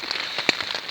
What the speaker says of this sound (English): Yeah, still raining as you can hear.